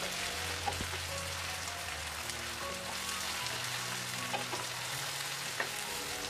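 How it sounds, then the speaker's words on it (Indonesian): Tuna in a spice paste simmers with added water, a soft continuous bubbling and light sizzle with a few faint pops and clinks, quiet and close, with no voices. "Selanjutnya kita tambahkan air dan dimasak sebentar lagi supaya bumbunya ini meresap ke dalam ikan tunanya."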